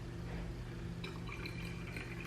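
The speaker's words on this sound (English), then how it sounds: "Take my water and pour it" Water is poured into a bottle to mix with apple cider vinegar, a quiet, steady trickle that rises into a gurgling fill.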